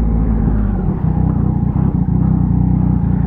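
A motorcycle's exhaust while riding: a loud, continuous low rumble that holds steady with slight throttle wobbles and no speech over it.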